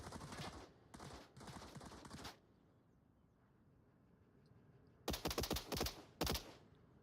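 Gunshots in a competitive shooter video game match, a few rapid clusters of sharp cracks early, a quiet stretch, then a tight rattling burst of several shots near the end, faint overall with no talk.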